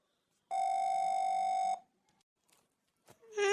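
A mobile phone placing a call in a village home: a single long, steady electronic tone, then a short pause with faint clicks, and the start of a ringing melody at the end.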